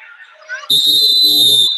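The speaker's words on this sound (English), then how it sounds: "sorry for the listeners for hearing that whistle there" Referee's whistle at a men's college basketball game between Richard Bland and Southern Maryland, one loud sustained shrill blast of about a second, close by, cutting over faint crowd murmur after brief talk.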